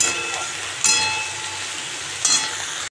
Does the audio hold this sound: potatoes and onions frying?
yes